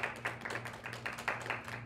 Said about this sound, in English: Can I get a round of applause for Lake Effect?